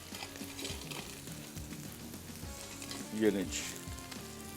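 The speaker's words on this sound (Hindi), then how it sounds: "तब तक इसको फ्राई कर रहे हैं।" Sliced onions fry in a pan for a reshmi tikka pizza, a steady close sizzle with occasional stirring clinks, while someone speaks briefly over it.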